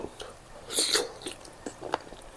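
Crisp crunching bites of spicy squid and shrimp salad up close, a loud burst followed by several smaller crunchy chews with brief pauses between.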